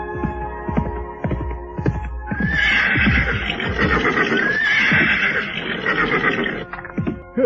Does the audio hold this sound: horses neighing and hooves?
yes